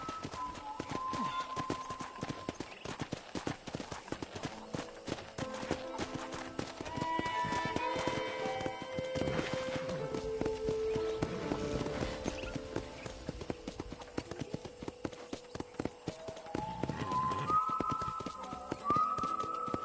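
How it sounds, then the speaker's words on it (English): Horse hooves clip-clop in a steady trotting rhythm across a ranch in Red Dead Redemption, continuous and fairly close, with soft game music underneath and no talk. "I picked out a fine horse for you."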